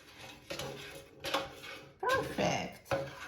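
Metal clatter of an air fryer basket being pulled out with cooked shaved steak inside, a few clinks and knocks heard close by while a voice talks.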